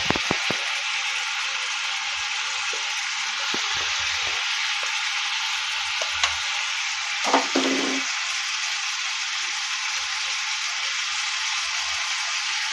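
Poppy seed paste is stirred with water in a pan of luffa, giving a steady sizzling hiss with a few soft scrapes and knocks near the start and middle.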